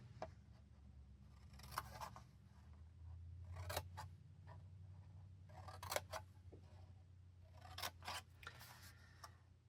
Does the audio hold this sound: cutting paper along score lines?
yes